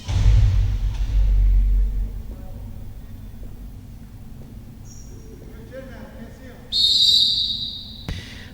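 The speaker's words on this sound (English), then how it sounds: "There's the judge's whistle." A judge's whistle at a jai-alai match gives one short, sharp, high blast late in the clip, after a low rumble and quiet court ambience.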